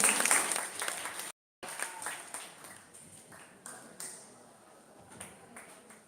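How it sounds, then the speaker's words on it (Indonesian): Audience applause at a school Teachers' Day ceremony as the principal is invited to speak: a moderate, diffuse patter of clapping that breaks off briefly, then fades under a faint background voice. "Berikan tepuk tangan sekali lagi"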